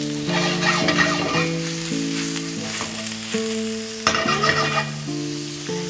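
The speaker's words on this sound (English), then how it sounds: "those together in a frying pan until lightly caramelized" Ingredients fry together in a pan until lightly caramelized, giving a steady sizzle broken by stirring scrapes, with background music playing over it.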